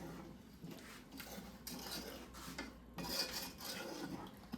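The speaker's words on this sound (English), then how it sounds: "Stir it around." A utensil scrapes and clinks in a pan while sugar is stirred into beet pickling liquid, soft intermittent stirring strokes and light metallic taps, quiet and close with no talking.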